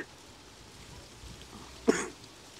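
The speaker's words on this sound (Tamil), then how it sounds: "இந்த இருமல் உண்டு இருந்து கொண்டே இருக்காங்க." A single sharp cough bursts out near the end, preceded by quiet background hiss.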